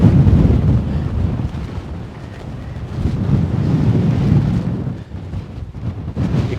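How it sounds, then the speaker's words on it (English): Strong wind gusts buffet the microphone continuously at an open hilltop picnic area as a storm approaches, a loud, rumbling roar that swells and dips without any talk. "The wind is picking up."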